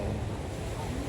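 Ocean waves at a Siargao surf spot roll in as a steady, broad roar of surf mixed with wind noise, loud and continuous with no talk.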